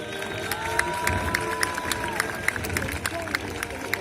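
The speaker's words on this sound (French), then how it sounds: "tu verras tout le public va t'applaudir" A crowd at a medieval festival tournament claps in steady rhythmic beats, fairly loud and spread out, with an announcer's voice and crowd noise over it.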